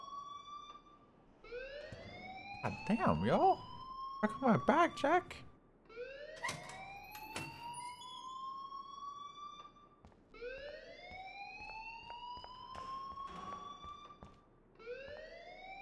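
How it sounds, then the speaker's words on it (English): A wailing alarm in the Life is Strange video game, with repeated rising siren sweeps. Two bursts of clattering noise and a few spoken words sit over it. "please turn off that alarm"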